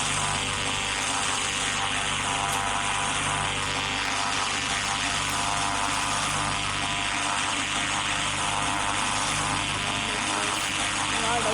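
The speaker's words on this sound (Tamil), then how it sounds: "police helicopter" Police helicopter in a motorbike driving video game, a steady, continuous rotor and engine drone that holds evenly throughout at moderate level, with a voice talking over it.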